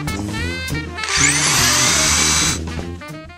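A power drill drives roofing screws into a metal roof along the top edge of a flange, giving one steady, loud whirring burst of about a second and a half between quieter clicks and handling noise.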